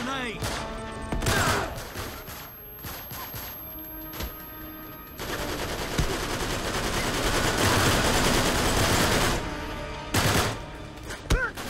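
Rapid gunfire in the video game Uncharted 3, bursts of shots and crashes running dense and loud through most of the stretch, with players talking over the action.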